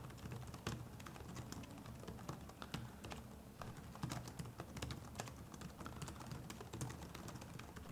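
Fingers typing on a compact Samsung keyboard, a quiet, close run of quick irregular key clicks and taps that continues steadily without voices.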